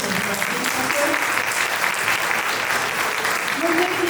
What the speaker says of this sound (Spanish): Pedimos un fuerte aplauso por su participación.